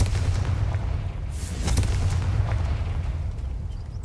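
A Confringo fire spell going off in Hogwarts Legacy: a close burst of crackling blasts and booming impacts over a low rumbling bed, brief bright pops at the peak, and no speech.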